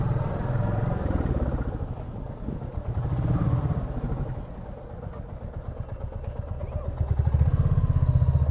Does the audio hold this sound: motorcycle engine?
yes